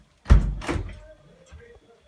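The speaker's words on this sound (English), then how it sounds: "The door shut." A door shuts with one loud, close thud on Christmas Day, followed by a short fading rattle in a quiet room.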